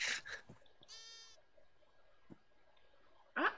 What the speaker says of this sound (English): I found more sheep.